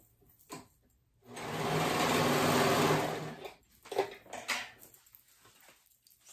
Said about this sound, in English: I'm gonna go ahead and sew those side seams together